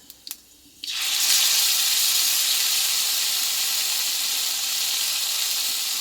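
Wet ground spice paste, made with marigold leaves, hits hot oil with five-spice tempering for a vegetarian green banana dish, bursting into a loud, sustained hiss after a moment of near-quiet with a couple of small clicks.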